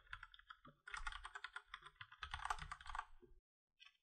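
Keys clatter on a computer keyboard as a host name is typed during an Ubuntu server setup, in quick close bursts of keystrokes with short pauses, ending in a single late tap.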